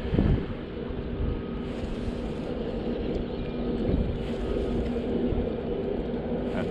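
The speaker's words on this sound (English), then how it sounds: "I'm sure you can hear the wind." Wind buffeting the microphone at Durban's North Pier, a steady low rumbling roar that stays loud and constant throughout with faint hiss above and no talk.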